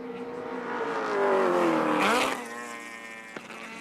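1983 touring cars race at Wanneroo Raceway, engines roaring loud and close as one accelerates out of a corner, pitch climbing and swelling before a brief drop and another car's drone, with a faint tyre squeal.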